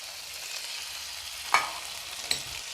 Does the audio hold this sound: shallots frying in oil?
yes